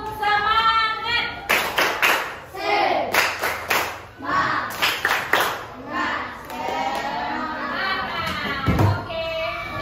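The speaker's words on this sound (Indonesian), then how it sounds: "Oke, tepuk semangat dulu, Nak. Tepuk semangat." Students in a classroom perform the rhythmic 'tepuk semangat' chant, voices singing together punctuated by sharp group claps in quick patterned bursts, close and loud, with chanting continuing between the clap sequences.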